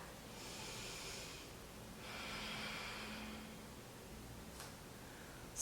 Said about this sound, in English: Slow down your breathing.